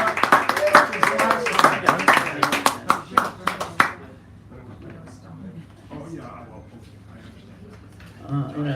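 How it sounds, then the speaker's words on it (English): Audience at a cafe poetry hour applauding a poet: close, lively clapping for about four seconds, then it stops abruptly, leaving quiet room tone with faint murmuring. "Give him a right round of applause."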